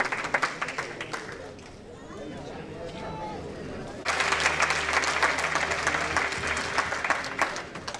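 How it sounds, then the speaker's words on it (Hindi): A crowd applauds at a Radio Pakistan diamond jubilee celebration, clapping and cheers swelling abruptly into a fuller, louder ovation partway through, with a voice speaking over the early part. "भरपूर तालियां"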